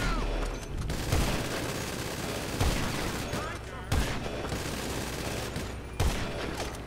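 Sustained video-game gunfire in Grand Theft Auto V, dense rattling bursts punctuated by heavier shots roughly every second or two, with a voice talking over the firefight.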